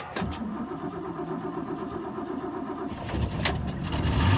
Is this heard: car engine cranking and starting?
yes